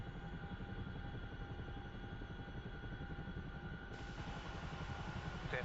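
Chinook helicopter rotors in DCS World during a combat search-and-rescue mission give a steady rhythmic thudding drone with an even turbine hum, constant throughout and heard alone.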